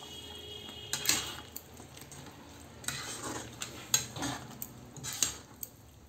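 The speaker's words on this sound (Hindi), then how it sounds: "अब हम इसमें सारा फ्राई किया हुआ चिकन डाल देंगे। और इसे चलाएंगे।" Fried chicken being stirred into bubbling chilli chicken gravy in a pan, a soft continuous sizzle broken by repeated scraping knocks of a spoon against the metal, close and without speech.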